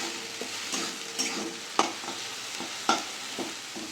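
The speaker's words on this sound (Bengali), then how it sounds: "দিয়ে দেবো তেলের মধ্যে। ভালো করে পেঁয়াজটা কষিয়ে নেব।" Ground onion and green chilli paste sautéing in hot oil, a steady close sizzle with several sharp spatula scrapes and knocks against the pan, no voices.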